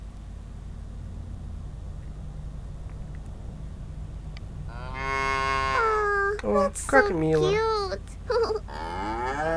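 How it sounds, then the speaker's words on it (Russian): A herd of cows moos in a field in the game Little Misfortune: low ambience first, then several drawn-out, overlapping moos close by, with a brief spoken remark among them. "На поле целый стадо коров."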